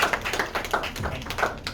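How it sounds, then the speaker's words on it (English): Scattered, uneven clapping from an audience at a motivational wellness talk, a close run of sharp hand claps for just under two seconds with no voices over it. "let's give him a round of applause"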